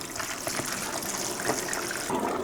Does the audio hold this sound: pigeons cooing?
no